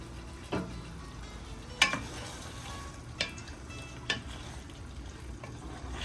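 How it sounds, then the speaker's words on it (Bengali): A cup of water goes into chicken cooking for chicken haleem, giving a steady soft sizzle. A few sharp clinks from a utensil against the pot cut through it, close by with no talking. "এখানে 1 কাপ মতন জল দিচ্ছি।"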